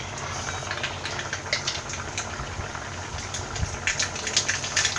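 Half a teaspoon of mustard seeds splutters in hot coconut oil for a Kerala-style ash gourd moru curry, giving a dense, steady crackle with sharper pops close by and no talking.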